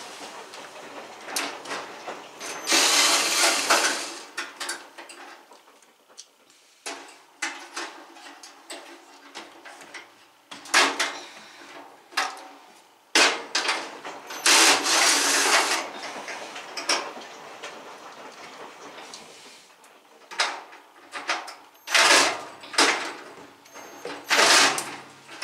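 A handheld power tool gun whirs in repeated short bursts and longer runs while removing sensors from a Whirlpool WED85HEF dryer that is not heating, close and fairly loud with clanks and handling noise between bursts.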